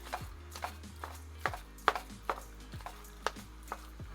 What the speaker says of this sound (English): Make sure you keep on chopping it up, get all those lumps out of it.